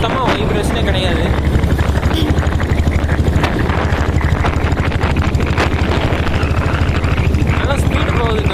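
A diesel Royal Enfield Bullet-style motorcycle with self start runs while being ridden, its engine giving a steady, continuous low thumping rumble mixed with wind noise throughout.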